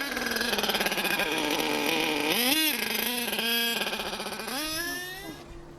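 Small model engine revving and accelerating, its pitch sweeping up and down in several rises, loud and close with a steady buzzing drone underneath; no voices.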